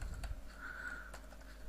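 A computer keyboard being typed on, a few quiet key clicks close to the mic over a faint background hum, with no voices.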